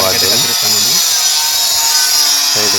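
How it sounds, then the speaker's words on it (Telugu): A power tool cuts through granite slabs for kitchen and hall work on a tiling and granite job site, giving a steady loud high whine with intermittent tonal squeals at the start and end. "గ్రానైట్ బండలు అయితే కట్ చేస్తున్నాడు"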